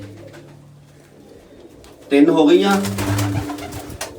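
Pigeons, including a red Chini hen, coo in a loft; soft, low murmuring sits quietly at first, then a voice comes in loud and close midway, with cooing continuing underneath.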